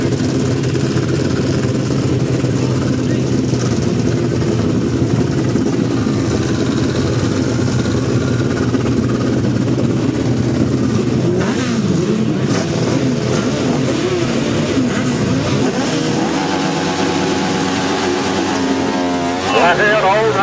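Grasstrack racing motorcycles, including a Ducati, revving hard at the start line and pulling away, a loud continuous engine roar with rising and falling pitch throughout, while a voice talks over it.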